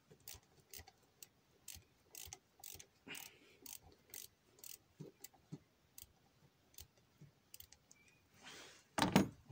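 A hand ratchet clicks in short rapid bursts, pausing between strokes, while loosening bolts on the EGR valve of a Renault Nissan 2.0 dCi M9R diesel engine; the clicking is close and fairly quiet, ending in a louder rustle.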